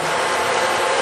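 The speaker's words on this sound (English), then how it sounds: "Okay, we're at 1200 RPMs." A Bridgeport Series II heavy-duty vertical milling machine runs at 1200 RPM, producing a steady, loud mechanical whir with a dense even hiss and no pauses.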